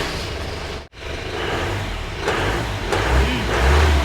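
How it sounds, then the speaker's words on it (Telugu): A blue jeep's engine is started for the first time and then revved, a close, rising mid-pitched roar that swells in waves after a brief dip at the start. "Engine sound ఇందాం."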